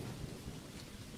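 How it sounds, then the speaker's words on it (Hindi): Heavy steady rain pours down with a low, rumbling undertone of thunder, a dense continuous wash of sound at moderate volume. "बारिश रुकने का नाम ही नहीं ले रही"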